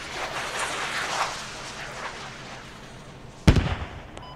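Distant artillery rumble in the Squad video game, with one sharp, loud boom near the end over steady background noise.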